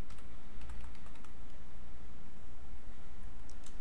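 Fast, steady clicking of keys on a computer keyboard while code is typed, close and clear, with no speech over it.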